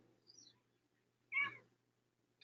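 A cat gives one clear, short meow in a quiet room, with a faint high chirp just before it and a tiny sound at the very end.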